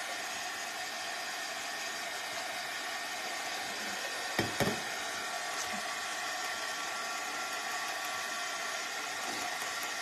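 A hair dryer runs steadily to speed-dry a painted wood door hanger craft, a constant quiet whirring drone with a couple of brief clicks or knocks midway.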